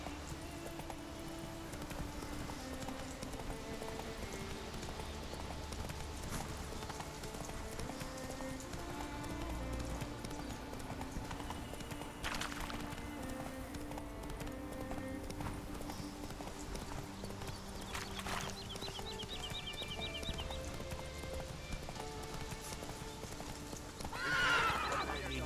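Roach, a horse in the video game The Witcher 3: Wild Hunt, galloping with rhythmic hoofbeats over a continuous music bed, with a brief neigh near the end.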